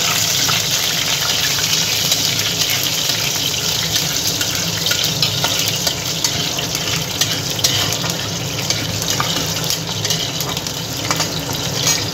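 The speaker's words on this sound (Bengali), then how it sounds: "ফোড়নটা ভালো করে ভেজে নিয়ে তাতে আমি কাঁচা লঙ্কাগুলো দিয়ে দেব।" Whole spices and green chillies frying in hot oil in a pan, a steady loud sizzle and hiss close by that carries on without a break.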